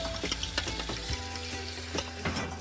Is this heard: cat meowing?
no